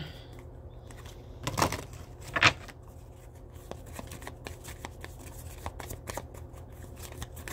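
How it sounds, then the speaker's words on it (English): Care Bear cards are shuffled close by, with two louder riffling bursts early on followed by softer, continuous flicking and handling of the deck. "Let's see if anything comes out of my Care Bear cards."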